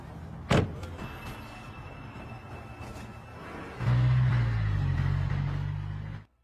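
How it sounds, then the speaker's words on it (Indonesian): A Rolls Royce pulls up to a hotel valet lobby in Dubai. A sharp knock sounds early, then a steady low engine rumble rises and holds close by before cutting off. "ada seorang wanita yang mengendarai mobil Rolls Royce"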